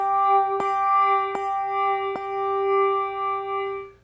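A tuned handbell struck three times at an even pace, each sharp clear strike ringing out with a long sustained tone that lingers steadily before fading away at the end.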